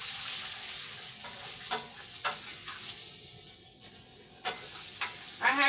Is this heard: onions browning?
yes